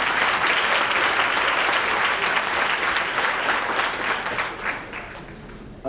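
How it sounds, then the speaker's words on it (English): An audience at a conference speech claps for a group of kids, sustaining loud, dense applause for several seconds before it thins and fades toward the end. "Clap it up for these kids."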